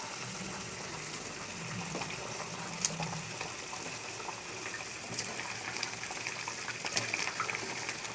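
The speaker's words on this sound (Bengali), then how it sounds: "দেখো বন্ধুরা ঝোলটা ফুটছে অনেকক্ষণ ধরে" Kofta curry broth boils in a pot, giving a faint, continuous bubbling hiss with a few soft pops.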